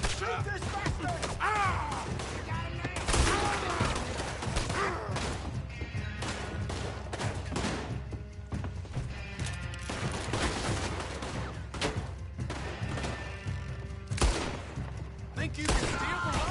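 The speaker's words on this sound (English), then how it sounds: "Shoot this bastard!" Dense gunfire from a Red Dead Redemption 2 shootout: rapid, overlapping shots and cracks in a steady barrage throughout, loud and close, with no speech over them.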